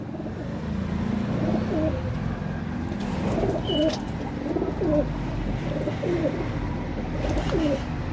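Pigeons coo softly in repeated low throaty calls from a loft, over a steady background hum and rumble.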